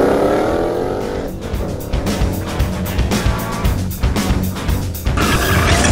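A 2015–2017 Mustang GT with a Borla performance exhaust roars through a tunnel, its loud, booming exhaust note echoing off the walls as it revs and accelerates, with crackling pops as the throttle changes.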